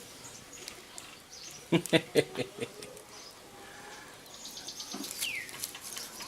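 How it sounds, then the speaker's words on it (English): Birds chirping inside a workshop, a burst of sharp calls and tweets followed by scattered thinner chirps over a low background hum, with a brief word spoken. "workshop is full of birds."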